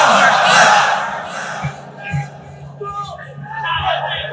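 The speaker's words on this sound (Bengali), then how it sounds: "কেউ তো স্লোগান দেন।" A crowd at a Bengali Islamic sermon gathering shouts together, a loud massed roar of voices at the start that fades into scattered calls and murmurs under a lingering reverberant hall sound.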